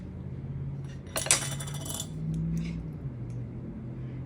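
Fideo pasta being stirred in a cooking pot, giving a brief burst of bright metallic clinks and scraping around one to two seconds, then a low simmering hum.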